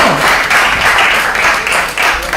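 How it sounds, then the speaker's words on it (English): An audience at a poetry-recitation competition final claps together, a dense, steady wash of applause that carries on without a break for the full couple of seconds. "I want a bigger clap than that"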